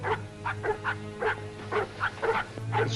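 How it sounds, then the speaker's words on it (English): A hurt, limping dog gives a rhythmic run of short yelping barks and whimpers, about eight in three seconds, close and fairly loud over a low steady hum. "It's a dog. He's hurt. He's limping."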